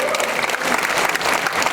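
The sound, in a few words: church congregation applauding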